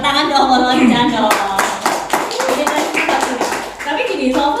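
Applause from an audience at a music launch event with a jazz-influenced single, steady clapping that swells and continues for several seconds, with a voice talking over it near the start.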